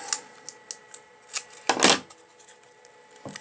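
Soft snips and clicks as scissors cut a small paper square in half while making a steampunk Easter card, with a few light taps leading to one louder crisp cut near the middle.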